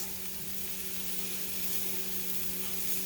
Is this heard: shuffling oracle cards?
no